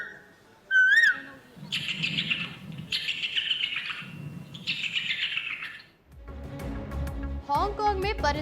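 A contestant at a bird-call imitation competition in Hong Kong whistles and mimics koel, owl and other bird calls in a series of melodic phrases, close and clear, followed by a burst of audience applause.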